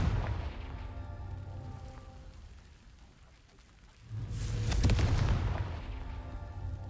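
A Confringo fire spell in Hogwarts Legacy goes off as a heavy booming blast that rises suddenly after a quiet stretch, with a crackling burst and a rumbling tail, loud and alone, following a low ambient hum.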